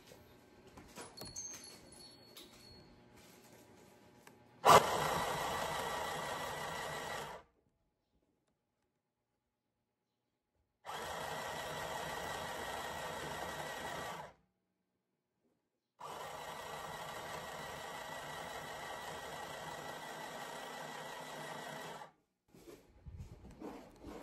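A small sewing machine stitching fabric in three separate runs of steady whirring, each several seconds long with silent gaps between, heard close and fairly quiet.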